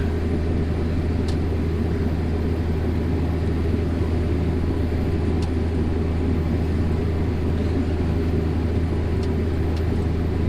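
A Pottinger tedder running and swinging round behind a tractor, a steady low droning engine rumble that holds even throughout with faint ticks above it, no voices.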